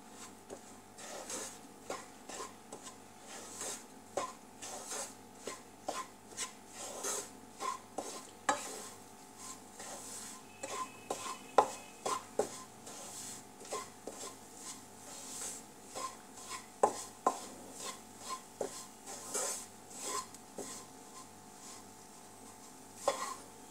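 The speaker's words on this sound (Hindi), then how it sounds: "आटे को हम लगातार चलाते रहेंगे, थोड़ा ब्राउन, डार्क ब्राउन होने तक इसे भूनेंगे।" Wheat flour for halwa is stirred and roasted in a pan, with repeated scraping and rubbing strokes of a spoon over a faint sizzle, close and fairly quiet, continuing steadily without talk.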